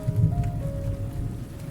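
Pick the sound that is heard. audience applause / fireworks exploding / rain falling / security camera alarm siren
rain falling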